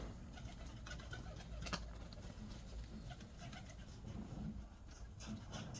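Pigeons coo softly in low, repeated murmuring calls over a faint background hum, with a few light rustles, distant and quiet, no talking.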